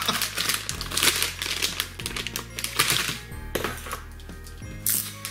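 Close, busy crinkling and rustling of a plastic bag being handled, irregular bursts of crackle over a low background hum.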